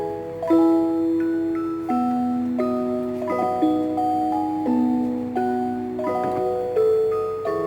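An electronic school bell timer plays a chime melody, a sequence of clear, sustained bell-like notes, moderately loud and close, with no voices.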